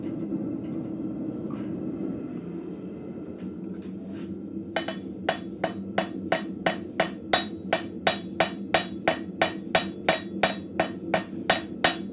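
A blacksmith's hammer strikes hot scrap metal on an anvil while forging an arrowhead. After a few seconds of low forge roar, about twenty evenly spaced, ringing blows follow in a steady, close rhythm.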